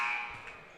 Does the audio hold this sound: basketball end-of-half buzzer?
yes